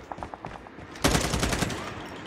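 Gunfire from the video game Call of Duty Mobile: a few faint shots at first, then a loud burst of rapid automatic fire that keeps rattling to the end.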